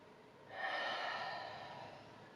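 One long, deep breath drawn during a yoga pose, a soft breathy rush that swells and slowly fades over about two seconds, quiet and close with no talking.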